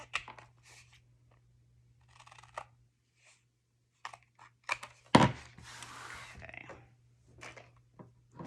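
Scissors cut paper corners for a scrapbook page in short, separate snips and crisp paper rustles, close and fairly quiet against near silence, with one louder crunchy handling sound partway through.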